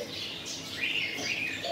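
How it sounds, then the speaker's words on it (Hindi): White Beauty pigeons, a breeding pair at a bird market in Al Ain, UAE, give a brief run of soft, close calls and chirps over a quiet market background. "ये है वाइट ब्यूटी कबूतर जनाब, ये इसने दो अंडे दी है, ब्रीडिंग पेयर है"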